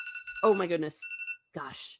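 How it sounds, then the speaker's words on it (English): An alarm tone sounds twice, a sustained electronic ring with steady harmonics, between exclamations from someone talking close by. "Sorry, that was my alarm warning me."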